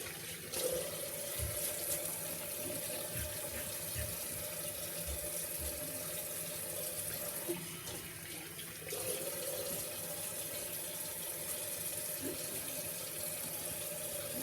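Tap water runs steadily from a faucet into a sink while the face is wetted before a wet shave, a continuous close hiss with a brief break midway and no talking.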